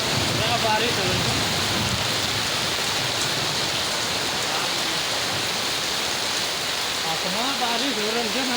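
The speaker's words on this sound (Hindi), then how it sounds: "बारिश हो रही है।" Steady rain falls in a village, a dense, even hiss that continues unbroken throughout, with faint voices in the background.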